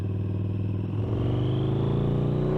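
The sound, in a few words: Harley Davidson V-Rod Night Rod V-twin engine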